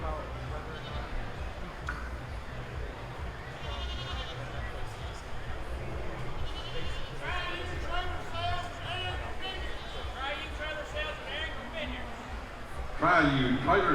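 A lamb bleats at a 4-H livestock auction during a county fair sale, with short cries rising near the end over a constant auctioneer's voice and crowd murmur.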